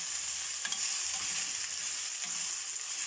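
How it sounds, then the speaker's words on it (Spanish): Food frying in a pan until lightly golden, a steady soft sizzle and crackle with occasional stirring scrapes, close by and alone without talk. "A que se dé una pequeña doradita. A que medio se sofría."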